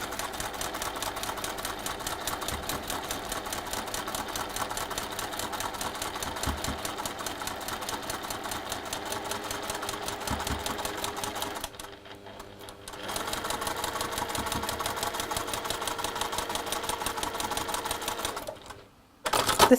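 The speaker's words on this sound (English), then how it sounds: "we can sew along this marked line" A sewing machine stitches a quilt block along a marked line, a loud rapid clatter that runs steadily, stops for about a second, then resumes until a final stop.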